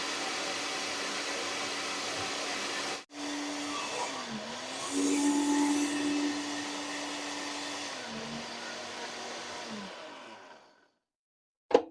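A blender grinds home-grown dried chilies, roasted beforehand, into chili powder: a loud, steady motor whine that shifts pitch a few times over about ten seconds, then winds down and stops.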